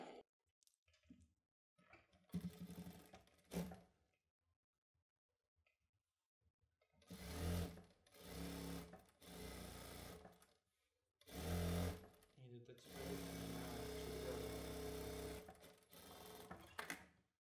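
Sewing machine stitching a child's dress in a tailoring class, several bursts of rapid mechanical whirring separated by quiet pauses and small handling clicks, with longer runs toward the end.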